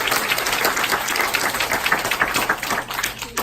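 A seminar audience gives a brief burst of dense applause, many hands clapping together at a steady level for a few seconds.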